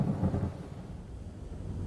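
Thunder rumbles low and steady through a stormy wind, a deep continuous roll without talk, fading slightly over two seconds.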